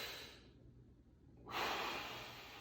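A single deep, breathy exhale during a kettlebell squat, close and soft, rising sharply halfway through after a quiet held pause.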